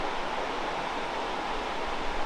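Blackwater Falls in West Virginia, on the Waterfall Trail, pours as a steady, broad rushing roar of falling water, even and continuous without breaks.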